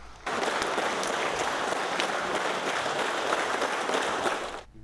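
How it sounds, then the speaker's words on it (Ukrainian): A hall full of people applauding at an award ceremony, a dense sustained wash of clapping that starts abruptly, holds steady and loud, then tapers off at the end. "Зал аплодисментами дякував дружинам та матері за подвиг їх чоловіків та сина."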